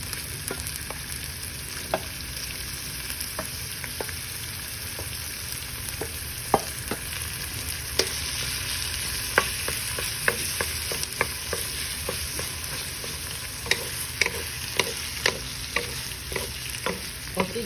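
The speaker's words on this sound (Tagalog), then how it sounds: "we're gonna let the ground pork cook first before we add the rest of the ingredients" Ground pork frying in a pan, cooked first for gising gising with green beans and coconut milk: a continuous bright sizzle with frequent sharp pops and crackles, close and alone.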